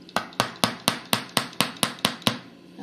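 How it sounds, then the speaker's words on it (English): A small hammer taps a skewer down through the center of a decorated cake, ten even, sharp knocks in a steady rhythm, close and clear with no talking. "Take a little hammer."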